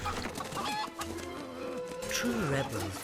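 A chicken in the Fable video game clucks in short, choppy bursts amid game sounds and background music, with a person talking over it.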